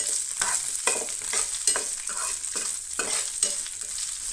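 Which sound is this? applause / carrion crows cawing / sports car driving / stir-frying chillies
stir-frying chillies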